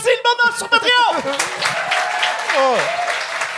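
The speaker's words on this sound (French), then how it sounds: "On applaudit le monde sur Patreon!" A studio audience on a Quebec comedy talk show applauds. The clapping begins under lively talk from the hosts and continues as a steady wash once the voices drop away.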